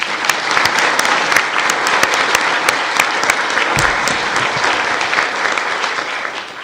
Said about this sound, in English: be it resolved that all of the delegates and clergy and guests who shared their time and talent be applauded.